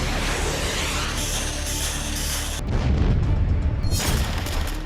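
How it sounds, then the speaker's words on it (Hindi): Heavy booming blasts and rumbling detonations from tank, artillery and mortar fire in the Ukraine war roll one after another, dense and loud, like sustained shelling with overlapping impacts. "मिसाइल और रॉकेट की बारिश, टैंक, तोप और मोर्टार से गोलों की बौछार"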